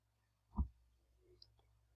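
A single mouse click on a website button, heard as one soft, brief tap in otherwise quiet surroundings.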